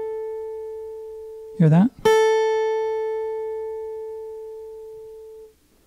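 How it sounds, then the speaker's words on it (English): A single sustained guitar note rings with vibrato made by rolling the fretting finger, clear and steady for several seconds before fading, with a brief spoken interjection partway through. "If you roll your finger like this, you get a little bit of a vibrato."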